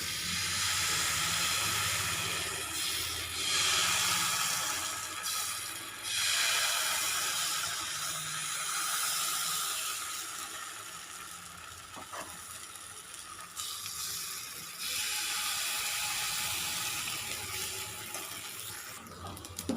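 Dosa batter sizzles on a hot griddle, a steady, bright hiss that swells and eases in waves over several seconds, close and alone without talk.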